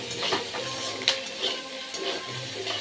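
Small prawns frying in a pan, a continuous moderate sizzle with occasional stirring clinks and scrapes.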